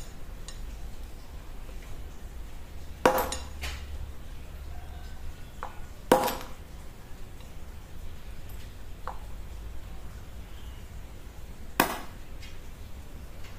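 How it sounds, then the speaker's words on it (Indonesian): A front wheel bearing on a Honda Vario 125/150 is hammered into place through an iron pipe, giving four sharp metallic blows spaced a few seconds apart over a quiet background hum. "kita palu menggunakan pipa besi supaya bisa rapat ke dalam"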